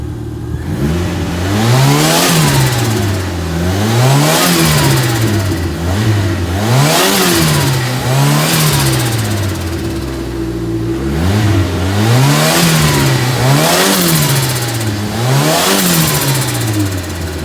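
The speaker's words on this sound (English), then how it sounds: "What I'm going to do now is give you a couple of revs," A Ford Fiesta RS Turbo engine is revved repeatedly, each blip rising and falling in pitch in a regular rhythm, loud and close, with a short settle to idle midway before the revving resumes.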